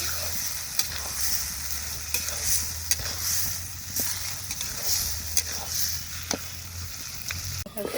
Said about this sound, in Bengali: মাংসটা একটু ভালোভাবে কষিয়ে নিই